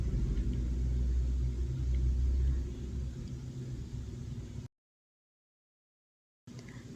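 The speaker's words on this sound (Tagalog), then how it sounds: "nakasakay na kami sa jeep pakadtog boarding house papuli" A jeep rolls along a road with a steady low rumble and engine drone, heard from inside, before cutting out to silence and resuming.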